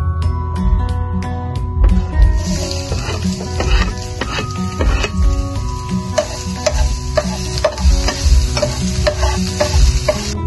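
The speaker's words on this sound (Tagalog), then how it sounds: "Ngayon ay ilalagay na natin ang olive oil. Ngayon ay ilalagay na natin ang bawang." Garlic sizzles in olive oil for tuna pasta, a bright continuous frying hiss broken by repeated metallic clinks and scrapes of stirring against the pan, close and loud.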